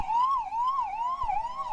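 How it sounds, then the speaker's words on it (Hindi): A police or ambulance siren wails in a steady rising-and-falling cycle during an air-raid mock drill, loud and close with nothing else over it. "सायरन बजते रहे, पुलिस की गाड़ियां इधर उधर, एम्बुलेंस की गाड़ियां इधर उधर नजर आई"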